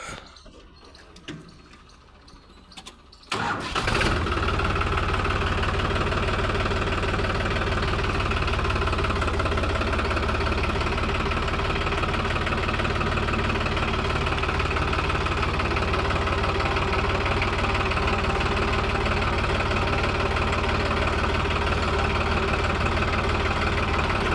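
After a quiet moment, a Farmtrac 60 tractor engine starts and settles into a loud, steady idle with a rhythmic low chugging that continues to the end.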